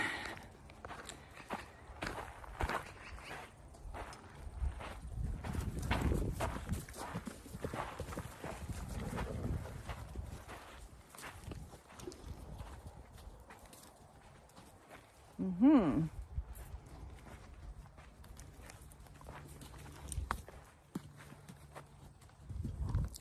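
A grouchy horse walks nearby, its hooves clip-clopping in a loose, uneven rhythm, fairly faint beneath a person talking at length.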